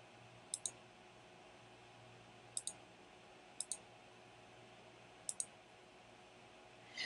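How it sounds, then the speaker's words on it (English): Someone clicks a computer mouse on software icons, four quick double clicks spaced across a few seconds. The clicks are crisp but quiet over a faint steady room hum. "Click the icon to the left of the rubric title to reveal a full-size rubric."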